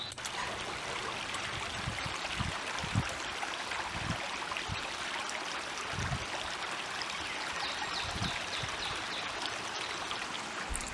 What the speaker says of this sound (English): Here is a nice peaceful brook.